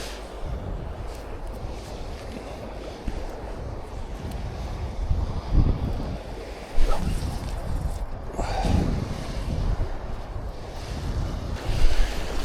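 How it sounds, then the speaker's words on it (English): Gusty wind buffets the microphone beside flowing river water on the River Tay in Scotland during salmon fishing, a loud rough roar that swells in several bursts. "we'll get to a lovely bit of water and the winds just come from nowhere"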